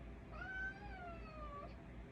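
A house cat gives one drawn-out meow, rising and then falling in pitch over about a second, faint and close against a quiet room hum.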